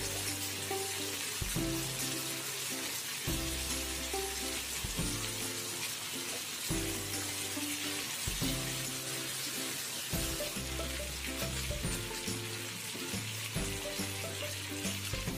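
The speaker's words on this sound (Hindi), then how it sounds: "चिकन को हमें अच्छे से गोल्डन कलर या ग्रिल मार्क आने तक फ्राई कर लेना है" Chicken pieces frying in a pan for a Chicken Afghani recipe: a steady, soft sizzling hiss running under louder rhythmic background music throughout.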